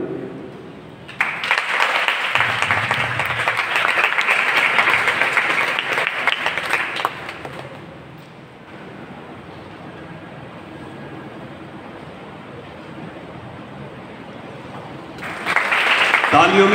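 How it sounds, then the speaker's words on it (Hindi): Applause fills the hall at an expression-of-gratitude ceremony, a dense burst of clapping for about six seconds that fades into room noise, then swells again briefly at the close. "तालियों में गुंजाइश ना रखिएगा।"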